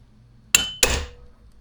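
Two sharp metallic taps, close and loud, as a wrench knocks an old, stubborn bearing out of a 20-year-old commercial fishing jig motor, with a short ring after each strike.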